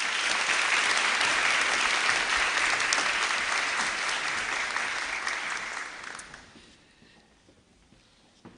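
An audience applauds grade 8 academic award winners at a girls' high school awards ceremony, a dense, steady round of clapping that holds strong for about six seconds before tapering off to near silence.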